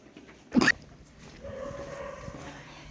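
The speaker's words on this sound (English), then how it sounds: "Yes, there is a dog amongst all these cats." A dog barks once in a night-time medina street in Sousse, Tunisia, a short loud burst standing out from a quiet ambient background with faint distant sounds afterward.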